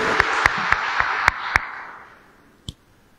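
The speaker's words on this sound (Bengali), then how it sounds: "সবাই জোরে হাততালি দিন।" Audience applause at a meeting with retired armed forces members: a burst of clapping with a few sharp, distinct claps that fades out over about two seconds, then one last lone clap.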